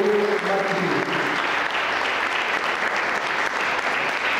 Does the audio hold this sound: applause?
yes